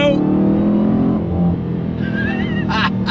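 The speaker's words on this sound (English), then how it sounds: "Second gear, on throttle, here we go." A 2023 Dodge Challenger Hellcat with a Tremec manual pulls hard in second gear, its deep engine roar rising under a man's speech, with brief high tyre squeals toward the end.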